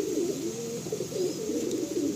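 A Madrasi pigeon coos continuously up close, a low, wavering rolling call repeating without break over a faint hum.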